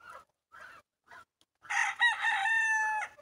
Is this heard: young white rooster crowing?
yes